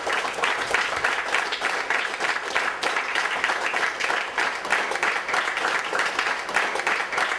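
Audience on its feet giving strong, sustained applause at a short film event, dense continuous clapping with individual claps flickering through, steady and fairly loud throughout.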